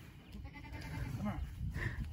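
Goats bleat on a farm, a few short calls at moderate distance mixed with rustling and a low human voice in the background.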